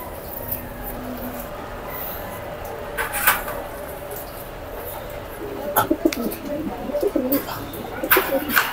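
Racing pigeons coo softly in the background amid faint clatter and scattered noises in Tanauan, Batangas, with the low cooing growing more noticeable toward the end.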